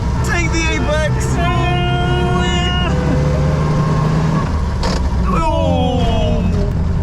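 An Austin 7 vintage car whines and hums while driving, its pitch rising and falling through gear changes, heard from inside the cabin with voices over it.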